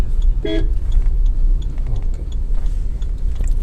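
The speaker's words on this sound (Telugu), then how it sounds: "హారన్" A car horn gives one short, loud toot early on, heard from inside a driving-school car moving slowly in traffic, over steady engine and road rumble.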